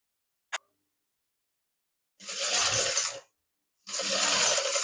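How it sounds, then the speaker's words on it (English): A sewing machine topstitches fabric on an agbada bubu gown, with a sharp click followed by two short bursts of close mechanical whirring separated by a pause. "You flip it over like so, and then you do your top stitching like so."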